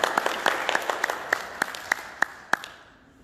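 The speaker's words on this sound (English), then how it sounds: "Round of applause." Applause from an audience at a funeral professionals' seminar, a scattered round of claps fading out over a few seconds with sharp individual claps standing out near the end.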